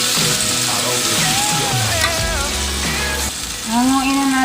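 Salmon fries in a pan, giving a steady, loud sizzle with clicking pops throughout, joined by metallic scraping and brief clinks.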